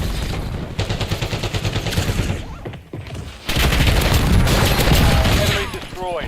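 Rapid bursts of automatic gunfire in a video game firefight, loud and close, with a brief lull before a denser, sustained volley and some chatter mixed in.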